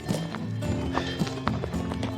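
Horses near a hiking trail in northern Spain, heard as a rapid, rhythmic clip-clop of hooves close by, with no speech over it.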